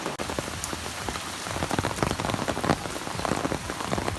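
Heavy rain drums steadily on surfaces nearby as children bathe in it, a dense continuous patter with scattered louder drops and no voices.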